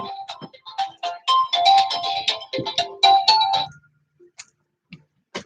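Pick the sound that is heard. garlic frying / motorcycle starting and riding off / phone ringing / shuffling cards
phone ringing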